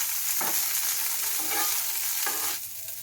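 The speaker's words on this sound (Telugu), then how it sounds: "కొంచెం ఆయిల్లో ఫ్రై చేస్తే ఆ స్మెల్ పోతుందని చెప్పి కొద్దిగా ఇలా చేస్తున్నాను" Finely chopped ingredients for an omelette frying in a little oil, a steady close hiss of sizzling with a few soft scraping stirs, no voices.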